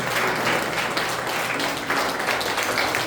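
A church congregation applauding during a sermon, loud and continuous clapping that fills the room, with crowd voices mixed in and little variation from start to end.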